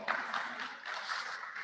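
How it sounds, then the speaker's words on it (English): Seminar audience giving a round of applause for the chief host, a short burst of scattered hand clapping at moderate level, steady and close. "Please, a round of applause for her."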